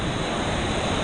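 Ocean waves wash steadily at Kamala Beach near Phuket, Thailand, a loud, continuous broadband roar of surf mixed with wind buffeting the microphone, with no voices.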